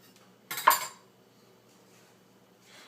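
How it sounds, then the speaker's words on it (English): A knife cuts through a cooled homemade loaf of bread in one short, close crunchy burst, followed by near silence. "now it's time to cut into our loaf of bread now that it's cooled and see how it turned out"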